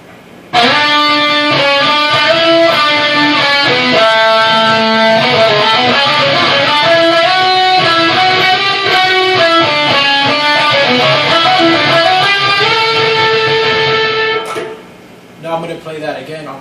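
Distorted electric guitar through a Holy Grail reverb pedal on the Hall setting plays a sustained chordal passage with a wide, washy reverb tail, loud and continuous, stopping near the end with a brief pluck.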